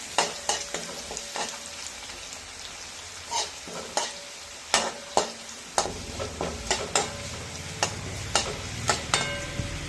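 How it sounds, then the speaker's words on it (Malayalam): Lemon pickle with curry leaves sizzling in a pan as a utensil stirs it, sharp scraping knocks recurring irregularly over a constant close frying hiss, with no voices. "ഇപ്പോഴേ വീണ്ടും ഒന്ന് ഇളക്കി മാറ്റാം."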